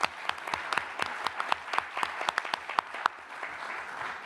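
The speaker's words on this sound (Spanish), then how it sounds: "pido un aplauso" An audience at a memorial tribute claps steadily for a few seconds, dense and full, with no talking over it.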